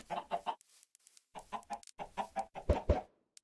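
Several Minecraft chickens cluck in short, irregular bursts with small gaps between them, close and moderately loud, with a couple of stronger clucks near the end and no talk.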